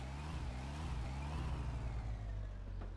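A car engine in the game My Summer Car revs steadily and loudly throughout while the car drifts, a continuous droning motor with slight pitch swells and no voices.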